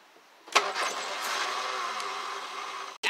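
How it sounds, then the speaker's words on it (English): A restored Morris Minor engine cranks and catches with a sharp burst, then settles into a smooth, steady run close by, with no voices. "As you can see, the car does in fact run, and pretty smoothly."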